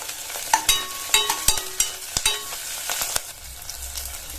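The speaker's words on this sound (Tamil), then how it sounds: "இப்ப இந்த வெங்காயம்லாம் ஓரளவு நல்லா வதங்கி வரட்டும்." Onions with chili and curry leaves sauté in a pan, with a soft sizzle broken by quick, close scrapes and clatters of a spoon stirring, then a brief low hum.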